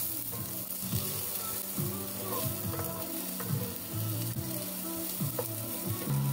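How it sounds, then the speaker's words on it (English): Onions and garlic sauté in fresh oil in a cleaned pan, a steady close sizzle and crackle running throughout with occasional soft scrapes of stirring. "So I cleaned the pan, added some more oil, gonna add our onions and garlic."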